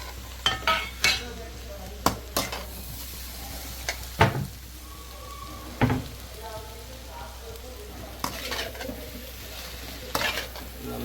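Chicken being stirred into fried rice in a pan, with repeated sharp scraping and clinking strokes of a spoon against the metal over a low steady sizzle, close and fairly loud.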